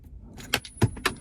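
A RAM phone mount ball arm is unscrewed inside a Toyota 4Runner, giving three quick close metallic clicks and rattles of plastic and metal parts in an irregular rhythm, with no talking.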